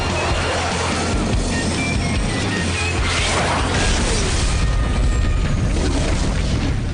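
A cartoon explosion in a Hindi-dubbed Kick Buttowski episode: a loud, sustained rumbling blast with crashing debris that fills the full seven seconds without letting up, and no voices over it.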